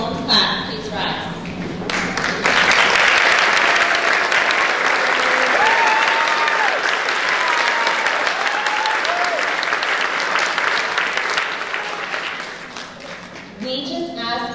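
Sustained audience applause at a third-grade school moving-up ceremony, swelling after a brief lull into steady clapping that runs for about ten seconds, with faint children's voices mixed in before it tapers off.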